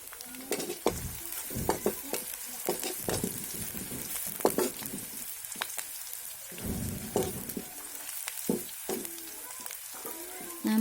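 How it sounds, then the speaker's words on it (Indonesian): Shallots and garlic sautéing in a pan for stir-fried genjer, a continuous close sizzle broken by repeated stirring scrapes, with no talking. "pertama kita tumis dulu bawang merah dan juga bawang putihnya. Kita tumis sampai harum ya teman-teman."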